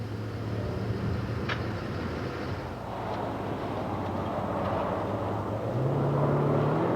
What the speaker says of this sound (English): Glenn's Jag can get around this road course quite smartly, with a bit more horsepower than it had when it left the factory